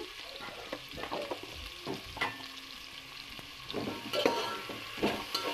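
Chopped onions and green chilies fry with a spoonful of salt in a pan for red dhal kichidi, a steady soft sizzle broken by scraping stirs and light utensil knocks, close and moderately quiet with no voices.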